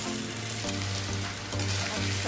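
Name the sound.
fish shallow frying in coconut oil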